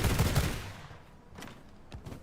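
Pistols fire in the vampire survival game V Rising, beginning with a loud, rapid volley and then thinning out, with a couple of sharp, isolated shots near the end.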